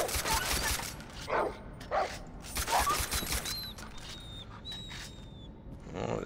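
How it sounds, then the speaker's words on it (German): Dog in the video game Far Cry 3 barking in several sharp yips and whimpers amid game ambience, with faint bird-like whistles and a brief voice near the end. "Köter."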